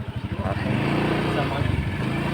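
A motorcycle engine idles nearby, with a fast pulsing low putter that swells into a steady revving drone, heard close and moderately loud for a couple of seconds.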